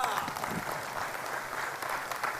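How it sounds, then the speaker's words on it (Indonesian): Steady applause from an audience, a dense wash of clapping hands that holds evenly for a couple of seconds. "Tepuk tangan."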